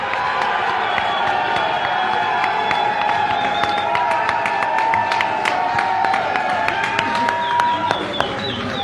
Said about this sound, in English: Only clap once. All right, let's hear it for Amir.